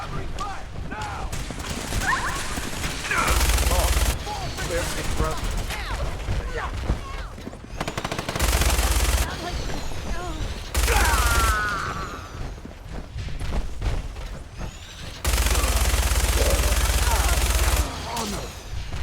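Fallout 4 gunfire bursts out in several loud, sustained volleys of rapid shots separated by quieter stretches, mixed with mechanical clanks and speech in the background.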